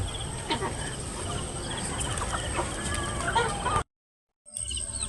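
A hen clucks softly and repeatedly at close range among other farmyard chicken sounds, with a brief gap of silence near the end.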